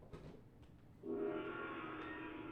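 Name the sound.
gong sound from data sonification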